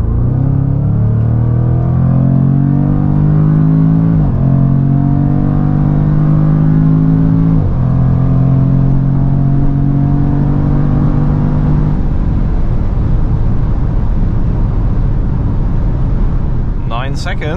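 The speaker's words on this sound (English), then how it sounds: "See how fast the F-Pace SVR goes" A 2022 Jaguar F-Pace SVR, a 550 hp SUV, accelerating hard uphill at full throttle: a loud, close engine drone rising in pitch through several gear changes, then settling into a roaring cruise.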